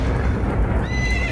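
Several horses neigh and whinny in a cartoon story, a steady loud mix of whinnies with faint clip-clop underneath and no talking.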